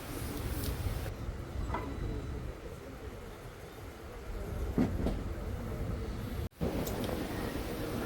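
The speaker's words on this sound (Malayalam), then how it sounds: "ട്രെയിൻ പെട്ടെന്ന് എടുക്കുകയും ചെയ്തു." A train pulls out of Shoranur railway station with a soft, steady rolling rumble heard from on board. It stays fairly quiet throughout, apart from one brief knock near the end.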